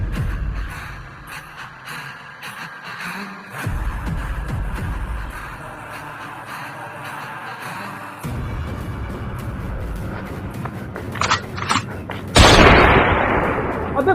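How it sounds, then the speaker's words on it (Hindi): Several sharp gunshot bursts and booms ring out amid shuffling noise, loudest near the end, with no talking. "अबे गोली चल गए।"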